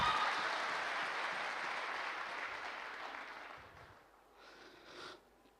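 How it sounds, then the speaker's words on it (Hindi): An audience applauds in a broad, sustained wash of clapping that gradually fades away, with a brief swell near the end before it dies out. "अरे ताली होनी चाहिए, डायमंड है भाई साहब।"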